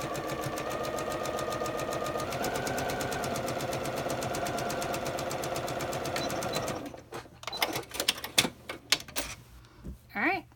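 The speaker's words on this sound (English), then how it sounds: "now I'm going to start back here at the bottom. So again, 3/8 seam allowance." A sewing machine stitches the pocket seam of a pair of track pants at a 3/8 seam allowance, running in a steady, fast, close whir for several seconds before stopping. Light handling clicks and rustles follow.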